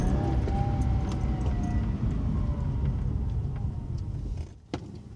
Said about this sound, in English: It's a nice sound, isn't it? Nice V6 sound.